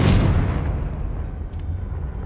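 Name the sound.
Confringo fire-blast spell explosion in the video game Hogwarts Legacy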